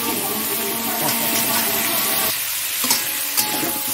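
Cauliflower sizzles and fries in a pan, stirred with a steady, close hiss and scraping that thins out partway through before continuing.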